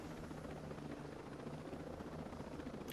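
A helicopter in the video game Ghost Recon Breakpoint gives a continuous rotor thrum, a steady pulsing drone heard close and fairly quiet throughout.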